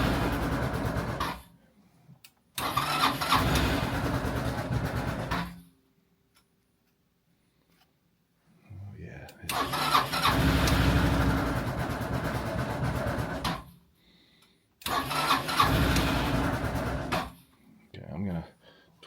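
Three Honda Helix scooters are cold-started at -17°C, giving repeated loud bursts of engine cranking and sputtering separated by quiet gaps, with brief voices between attempts.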